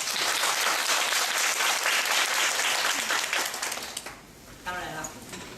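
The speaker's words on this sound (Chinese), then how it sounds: "所以啊，我真的要邀请大家，我们一起拍手，" Audience at a corporate HR lecture clapping hands together, a dense, loud burst of applause lasting about four seconds before fading, followed by a speaker's voice.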